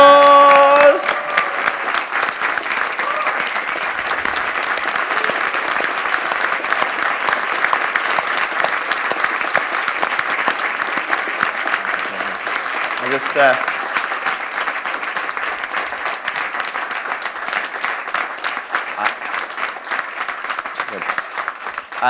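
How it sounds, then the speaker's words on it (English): A large audience gives a speaker a long, sustained round of applause, dense clapping holding steady throughout with no voices breaking through. "please give Dr. John DeMartini a huge round of applause"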